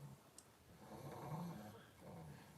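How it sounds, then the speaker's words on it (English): A sleeping dog snores softly, with two slow, raspy breaths close by in a quiet room. "I'm sorry for my dogs snoring."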